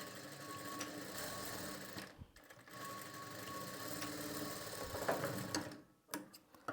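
Sewing machine stitching thin fabric with a lining along the edge, a fast continuous mechanical whir with brief pauses and restarts, close up.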